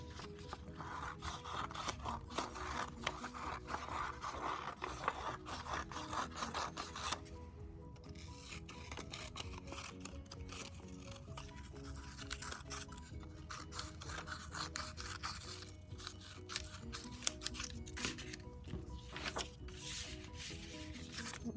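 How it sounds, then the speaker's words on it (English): Paper shapes are cut out with a steady, continuous rasping and snipping texture that carries evenly throughout at moderate volume, with no talking. "I'm going to go ahead and cut these out."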